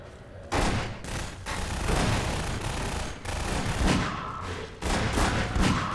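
Enemy shotgun fire in the first-person shooter Half-Life 2: repeated loud, broad blasts arrive in bursts of combat over about six seconds, up close and dense, with no talking over them.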